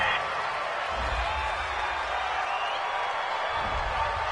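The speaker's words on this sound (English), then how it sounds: "This home crowd, they're happy with that call" Home crowd at an NFL football stadium reacting to a penalty flag, a broad sustained roar of cheering from a large distant crowd with swells, heard under broadcast commentary.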